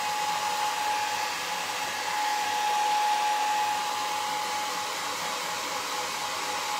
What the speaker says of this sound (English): I'm gonna hit that with the dryer real quick